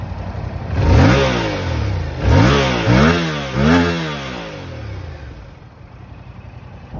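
A stock-exhaust 2022 Yamaha YZF-R7 motorcycle is revved up close, four sharp throttle blips rising and falling in quick succession before settling back to a low idle.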